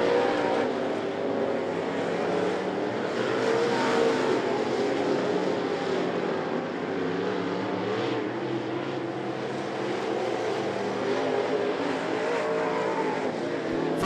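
A field of Crate Late Model race cars laps the I-75 Raceway under a continuous dense engine roar. Several engines blend together at steady loudness for the whole stretch, and there is no talk over it.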